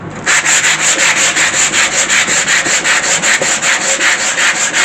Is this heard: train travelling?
no